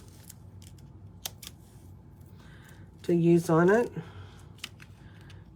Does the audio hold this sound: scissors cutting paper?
yes